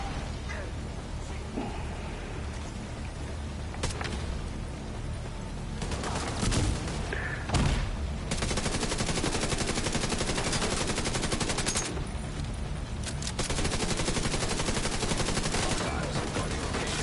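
Gunfire crackles almost without pause in The Division 2 shooter game, dense and loud, with sharper explosive bursts near the middle that fit grenade blasts going off amid the shooting.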